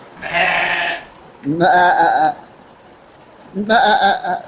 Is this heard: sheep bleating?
yes